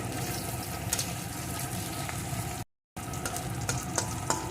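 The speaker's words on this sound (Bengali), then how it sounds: "এখন পেঁয়াজ কাঁচা লঙ্কাটাও একটু ভেজে নেব" Onion and green chili fry in oil for a banana curry with neem leaves, a steady close sizzle with light stirring throughout, broken by one brief silent gap.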